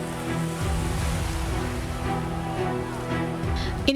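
Ocean surf at Pantai Panjang beach in Bengkulu gives a steady, close rush of breaking waves, with a low constant roar and a brief sharp knock right at the end.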